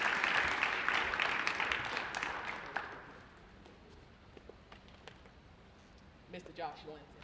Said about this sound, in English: y'all deserve to give him another round of applause